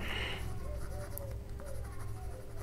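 A pen writes on paper while an accounting journal entry is filled in, a soft continuous scratching of close strokes running steadily for a few seconds with no talking over it.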